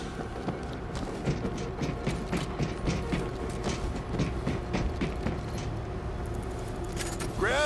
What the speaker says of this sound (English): To the train controls and start it up!